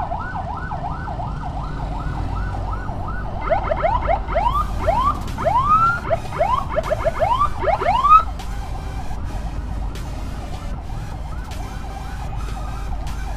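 An ambulance siren during a road escort on a badly broken road, cycling through a slow wail, then quick yelps, then a steady tone, loud and close over engine rumble.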